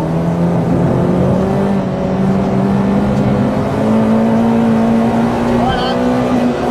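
A Peugeot 206 RC with modified camshafts is driven hard on a track, its engine droning loudly and steadily as it climbs in pitch through the gear, heard from inside the car.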